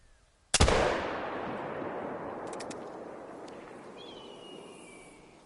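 A single muzzle-loader rifle shot in the hunting game The Hunter: Call of the Wild cracks loud and sharp, then rolls into a long echoing decay across open terrain that fades over several seconds.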